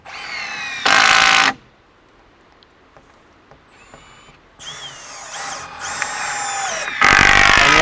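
Power drill driving screws into boards, several loud bursts of whirring with quiet gaps between, the last runs longer and overlapping, close by.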